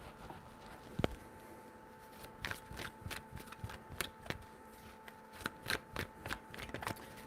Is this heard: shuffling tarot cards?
yes